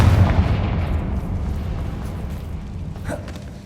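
A Confringo spell blast in Hogwarts Legacy gameplay, a heavy booming explosion that hits loudly at the start and rumbles away over several seconds.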